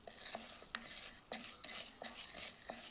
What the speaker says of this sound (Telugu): కంటిన్యూస్గా కలుపుతూ ఉండాలి.